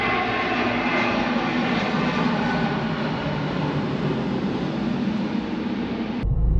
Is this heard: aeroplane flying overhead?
yes